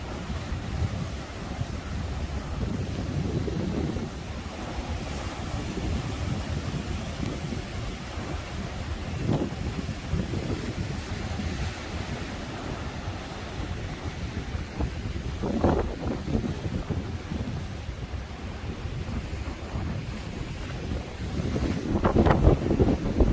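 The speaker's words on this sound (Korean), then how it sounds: "큰 파도가 밀려오고 있어서 한번 살펴보도록 하겠습니다." Heavy surf rolls and crashes continuously on the Sokcho coast during a typhoon, under strong gusting wind buffeting the microphone, with a few louder wave surges standing out near the end.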